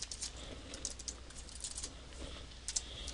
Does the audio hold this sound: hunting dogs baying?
no